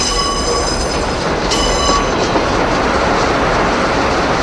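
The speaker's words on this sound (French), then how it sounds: "cette énorme machine lime les rails pour limiter les frottements avec les roues métalliques des trains" A large rail grinding machine files down the running rails of the Paris metro, giving a loud, steady, dense rumble and grinding roar with a brief high metallic squeal partway through, close by and without any voices.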